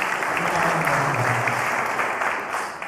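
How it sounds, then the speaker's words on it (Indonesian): Applause from an audience at a church service inside Cipinang prison, a dense, steady wash of clapping that stays loud for the whole stretch, with a faint voice murmuring underneath. "Tepuk tangan buat Tuhan Yesus"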